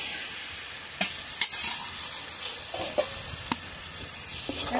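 Spiced meat for mung dal mangsho with ground coriander, nutmeg and mace frying in a pan, a steady sizzle broken by a few sharp spatula scrapes and knocks as it is stirred, no voices.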